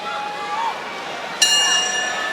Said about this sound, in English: Here's that history ringing bell here at MSG.